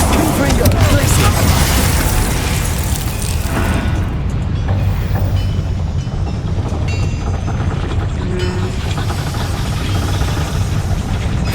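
Confringo fire-spell blasts in Hogwarts Legacy amid a dense, continuous roar of combat with rumbling low booms and mechanical clatter, loud throughout with no clear separate hits.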